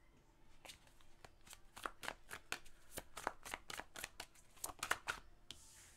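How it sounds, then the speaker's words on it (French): Tarot cards being shuffled and drawn during a reading, giving a steady run of crisp riffling snaps and flicks, close and fairly soft, with a papery rustle at the end. "Avec le 2 de denier, on va aller chercher 4 autres cartes."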